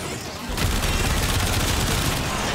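Rapid automatic gunfire from weapons in the video game Warframe erupts suddenly and continues as a dense, loud, unbroken barrage, with someone talking underneath.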